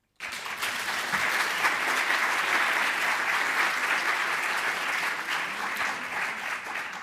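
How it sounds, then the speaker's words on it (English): A conference audience at a European universities alliance event applauds the morning speakers, a dense, steady roar of many hands starting abruptly and holding loud and even for several seconds without talk. "We could also probably extend the applause to all the morning speakers and sessions"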